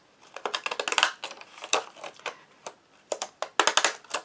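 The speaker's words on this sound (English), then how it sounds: "So I'm just going to cut out this piece again." Scissors snip out a paper piece for a handmade 3D butterfly card, giving a quick, crisp series of close cutting bursts with short pauses and no speech.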